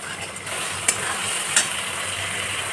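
A small splash of water meets a sizzling spice paste in a pan for a Bengali begun sundori recipe, making a steady, close frying hiss broken by two faint clinks of a utensil, with no talk.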